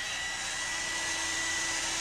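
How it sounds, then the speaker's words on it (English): A regular handheld hairdryer blows steadily to shrink plastic window insulation film tight over a window frame, a continuous even airy whine with no pauses, close and alone. "we'll use just a regular hairdryer to shrink the film to make it tight and wrinkle-free."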